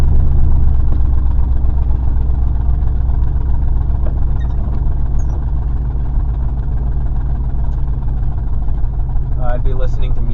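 An old, rusty car drives in the rain with a tarp on it, giving a loud, steady low engine drone and road rumble that continues throughout, with faint rattles near the end.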